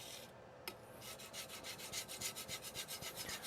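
A Shirogami nakiri knife is pushed with heavy pressure over an Amakusa natural sharpening stone, making close, rhythmic rasping strokes that quicken into a steady back-and-forth scrape.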